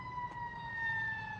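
A fire truck siren sounding in a smoky city area, a steady sustained wail at moderate distance holding its pitch throughout over faint background traffic noise.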